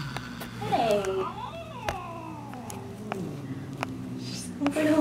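A house cat, newly sharing the home with another cat, lets out a string of drawn-out, warbling meows and growl-like caterwauls, close by, with people talking softly over and between the calls.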